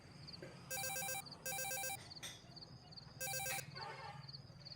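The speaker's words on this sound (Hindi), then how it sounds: "फोन बज रहा था।" An electronic telephone ringtone trills in three bursts with short pauses, faint over a low background hum and a repeating soft chirp.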